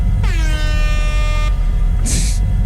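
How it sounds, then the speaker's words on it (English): A loud, sustained air horn blast with bright stacked tones, cut off abruptly, followed by a short burst of harsh hiss. "followed it with an air horn sound effect"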